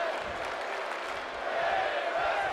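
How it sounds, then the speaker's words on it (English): A women's wrestling crowd chants together in an arena, a dense, loud and sustained wash of many voices that holds steady for the whole moment without pause. "the crowd is chanting women's wrestling"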